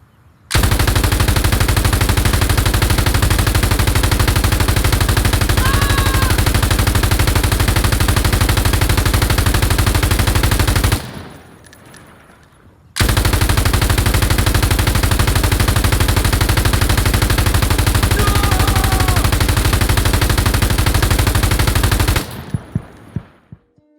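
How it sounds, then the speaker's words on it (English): Light machine gun in the video game Insurgency firing continuously in two long sustained bursts, loud and dense, separated by a brief pause with a short trailing tail at the end. "today's insurgency detail needs us to equip a light machine gun and simply hold down the trigger"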